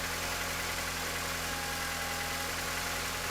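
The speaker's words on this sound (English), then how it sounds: "the engine was starting to stall for some reason" A MINI R50 engine idles with a steady, close mechanical rumble and hum, holding an even drone throughout as it begins to falter toward a stall, with no talking.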